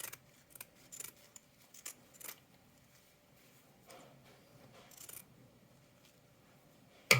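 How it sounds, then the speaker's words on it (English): Zigzag scissors snip through fabric close to a stitch, a few quiet, crisp cuts in irregular bursts with pauses between, faint and close-up. "I like using these zigzag scissors and just getting as close as you can"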